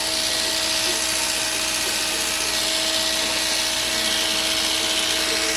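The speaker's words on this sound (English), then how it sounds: "Even my Oscar clipper has a hard time carving through it." An Oster hair clipper cuts through thick, strong hair during a textured taper haircut. Its motor gives a loud, continuous, close-up buzzing hum with a steady pitch for the whole stretch, and no one talks.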